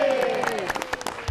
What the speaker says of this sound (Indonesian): Tepuk tangan, kasih suara, yeay